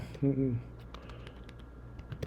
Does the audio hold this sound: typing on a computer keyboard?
yes